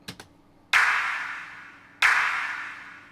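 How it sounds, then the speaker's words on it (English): Two synthwave clap hits, each squeezed into the high mids and trailed by a long, heavy reverb tail, land about a second and a quarter apart, following a couple of faint short ticks. "So the claps are very squished into the high mids with a"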